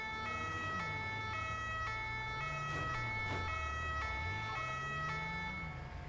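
An ambulance's two-tone siren in GTA 5 wails continuously and loudly, alternating between two pitches, with the drone of a passing vehicle engine underneath.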